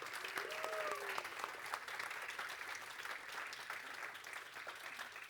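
Faint, distant applause from a conference audience during a company announcement, a soft continuous patter with a few tonal voice traces near the start.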